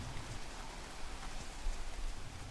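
Rain falls steadily against a tall glass window high in an office building, a dense, even patter of drops that stays constant and close throughout, with no voices.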